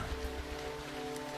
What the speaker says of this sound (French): C'est génial, j'adore la pluie.